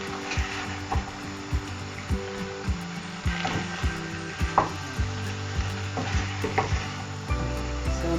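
Cauliflower and potato being stirred in sauce in a large saucepan for gobi aloo, with a continuous close sizzle and regular scraping strokes of stirring roughly once a second, and no speech over it.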